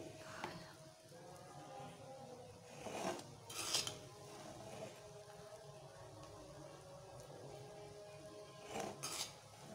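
Classic biryani being dished out onto a plate: quiet clinks and scrapes of a serving spoon against dishes, a few sharper metallic clatters spaced through a low background.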